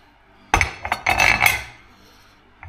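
A metal back half of a Polaris Xpedition clutch secondary being slid onto a compression tool, giving a few close, sharp metallic clinks and scrapes over about a second before falling quiet.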